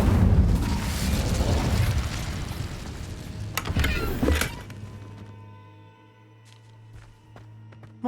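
Incendio fire spell blasting in Hogwarts Legacy, a loud roaring burst of flame with crackling and booming that swells for several seconds, then dies away into a quiet hum with small scattered clicks.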